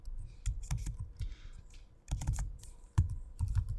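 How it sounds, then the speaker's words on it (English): Keys clatter on a computer keyboard as a field name is entered into a Power BI calculated column, with quick irregular bursts of close clicks and short pauses between them, and no voice. "So I'll type in the word days for the field name."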